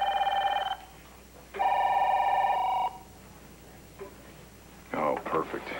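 A telephone bell rings in two long bursts of bright, steady tones separated by a pause, fairly close and clear; a brief voice follows near the end.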